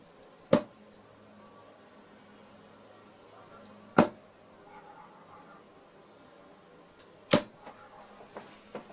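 Three darts thud sharply into a Shot Bandit Plus dartboard a few seconds apart, each a short soft impact, with faint small sounds in the quiet room between them.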